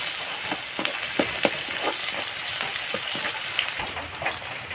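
Onions fry in a pan over an open fire for pork curry, giving a steady, close crackling sizzle broken by light stirring clicks and pops throughout.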